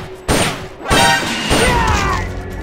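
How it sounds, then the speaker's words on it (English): Gunfire in Metal Gear Solid: Peace Walker rings out in three loud, booming bursts spaced about half a second apart, each followed by a rumbling wash of echo and battlefield noise. "You hear that? Gunshots!"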